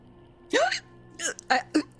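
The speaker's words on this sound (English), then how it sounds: "She hiccups." A woman hiccups several times at close range, each one a short sharp vocal catch separated by brief pauses, against a quiet room hum.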